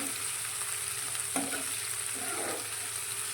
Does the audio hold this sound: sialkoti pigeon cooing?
no